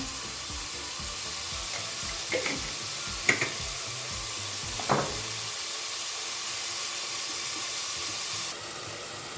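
Onions sauté in a pan with a steady, moderate sizzle, a few sharp clatters of a utensil against the pan on top, then the frying settles into a softer hiss toward the end.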